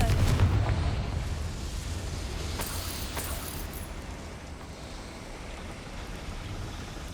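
A Confringo fire spell from Hogwarts Legacy bursts loudly at the start, then fades into a rumbling, roaring wash that stays steady and slowly thins.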